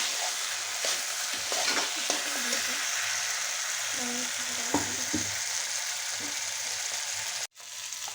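Paneer coated in Kashmiri red chilli, sugar and a cashew-poppy seed paste is stirred in a sizzling pan for shahi matar paneer korma, with spatula scrapes and clicks over a continuous fry, ending abruptly.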